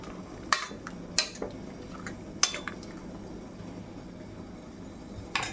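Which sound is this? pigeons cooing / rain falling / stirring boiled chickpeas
stirring boiled chickpeas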